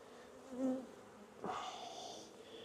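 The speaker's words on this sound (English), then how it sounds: "a lot of bees" Honey bees buzz around a hive during a hive merge, a faint, close hum with a louder buzzing pass partway through and no talk.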